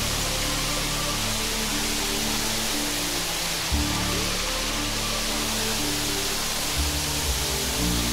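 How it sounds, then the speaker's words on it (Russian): Unnamed waterfall in eastern Abkhazia pours steadily, a dense close roar of falling water with a couple of faint thumps and no voices. "Водопад безымянный. Еще один."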